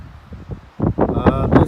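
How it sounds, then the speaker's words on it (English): Outdoor wind buffets the microphone in bursts of low rumble alongside a person speaking, loud and close. "excuse the wind, it's windy out."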